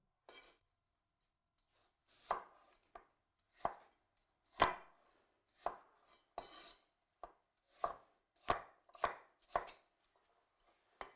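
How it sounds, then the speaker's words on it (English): Apples are cut with a knife on a board for an apple crumble, about a dozen sharp, close chops at an uneven pace against an otherwise quiet kitchen. "I'm not cutting the apples too small, so there's still something to bite into."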